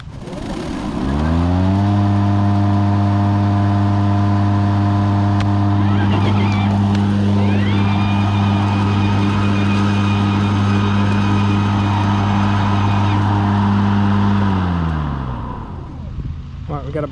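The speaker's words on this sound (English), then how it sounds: "let's try it out with the transmission. Kind of like a medium. See how loud it gets," An EGO electric lawn mower runs on turbo with its self-propelled transmission engaged at a medium setting, giving a loud, steady mechanical whine and hum that holds for about fourteen seconds before winding down.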